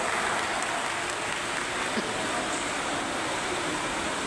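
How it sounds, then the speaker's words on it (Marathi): Steady, dense clapping from an audience at a women's constitution conference hosted by the Agrani Foundation, loud and continuous from start to finish with no voices breaking through. "एकदा जोरदार टाळ्या सर्व अग्रणी फाउंडेशनसाठी"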